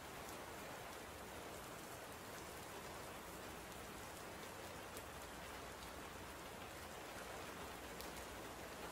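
Steady rain pours down in a dense, even hiss, with scattered drops pattering on surfaces, continuous and unbroken throughout.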